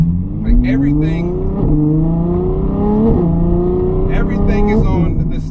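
A straight-piped Ferrari F12 V12 revs hard and loud up close, climbing through repeated rising sweeps with sharp shift breaks and crackling exhaust pops.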